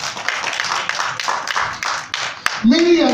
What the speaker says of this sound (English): Clap your hands if you believe it.